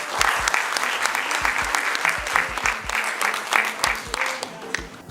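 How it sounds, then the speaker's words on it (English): Audience applause for the longest serving member of Parliament at a conference event, a lively close burst of dense clapping with a few distinct sharp claps and faint crowd murmur. "I think that deserves a round of applause"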